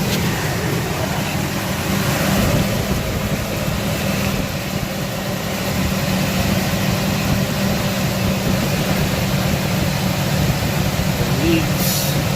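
A 2004 Ford F250 pickup engine runs at a steady idle, a continuous low rumble close by with no change in pace throughout.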